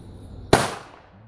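A single sharp firecracker (Böller) blast on New Year's Eve, close and loud, with a brief decaying tail and no voices.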